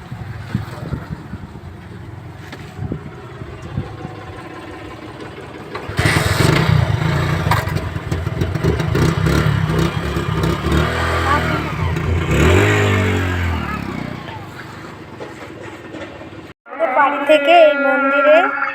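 A motorcycle engine hums while riding along a road, growing louder and rougher midway with revving, as someone talks over it; a different sound cuts in at the end.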